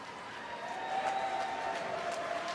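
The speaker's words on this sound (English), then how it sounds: "let's give a big round of applause for both of these gladiators" A crowd applauds and cheers after an extreme fighting bout, a faint, distant, steady roar of clapping under a ringing tone in the arena.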